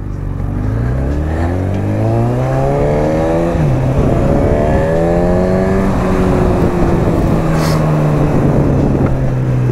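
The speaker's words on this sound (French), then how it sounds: "Ça chante un peu avec cet échappement là." A Honda Hornet 1000 motorcycle with its fitted exhaust revs loudly up close, the engine note rising and falling steadily before it pulls away, a constant strong roar throughout.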